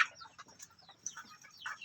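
Siamo Asil chickens clucking and calling in short bursts at moderate distance, several soft calls spread across a couple of seconds.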